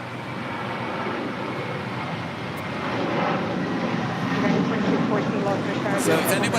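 A Delta airliner takes off from runway 25 right at LAX, a broad sustained jet roar that slowly builds in loudness, heard from a distance with faint voices mixed in.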